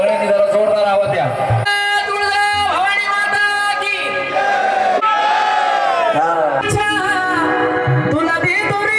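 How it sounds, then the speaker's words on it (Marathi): A crowd at a child's fifth birthday party shouts and cheers loudly and continuously, with strong voiced whoops and yells layered over each other. "आता सगळ्यांनी जरा जोरदार आवाज द्या"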